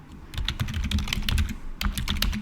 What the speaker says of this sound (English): You're going to type in your URL